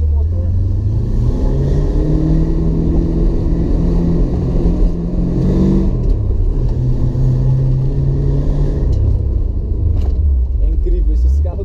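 A supercharged Dodge Dart with a 318 V8 rumbles loudly up close, its deep idle swelling into revs and settling back with a steady throbbing pulse, heavy low-end roar throughout.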